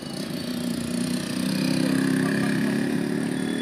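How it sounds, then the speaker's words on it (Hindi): A 1995 Mahindra 265 DI tractor engine running steadily after starting, a loud, continuous low diesel rumble close by with no talk over it. "अभी ट्रैक्टर की स्टार्टिंग भी दिखवाऊंगा आपको।"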